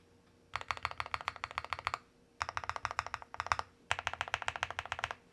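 Typing on a Chosfox Leo80 mechanical keyboard with Hanami Dango v2 switches, connected over 2.4G wireless: quick bursts of close, crisp clacky keystrokes separated by short pauses, with no voices.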